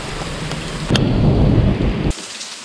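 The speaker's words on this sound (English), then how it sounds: "it's raining pretty good" Heavy rain pours down near an outdoor football field, a steady dense hiss that swells sharply louder for about a second before dropping back, with no voices.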